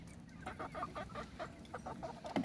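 Faint clucking and crowing of an Indian game rooster in a series of short calls, distant over low background noise.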